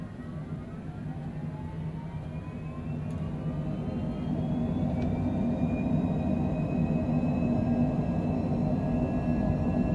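Airliner takeoff roll in Microsoft Flight Simulator 2020, a steady engine roar and rumble that builds in loudness while rising whining tones climb over it, with no voices.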